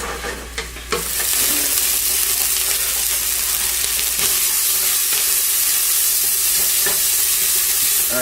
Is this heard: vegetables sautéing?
yes